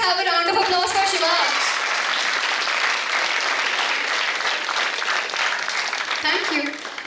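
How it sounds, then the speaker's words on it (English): An audience at an investiture ceremony breaks into sustained applause after a speech, a broad wash of clapping that holds steady for several seconds while a voice is heard briefly at the start. "Can we please have a round of applause for Shiva?"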